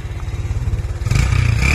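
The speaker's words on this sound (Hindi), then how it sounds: "आपको थ्रॉटल साउंड, आपको एग्जॉस्ट साउंड बता देता हूँ" Kawasaki Bajaj Caliber 115 motorcycle, restored to factory condition, idling with a steady low exhaust putter, then the throttle opens and the engine rises into a louder, rougher rev, heard up close.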